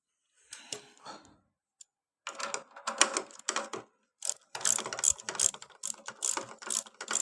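Ratcheting wrench tightening a nut on a 7 HP power tiller engine, rapid close metallic clicks in several bursts separated by short pauses.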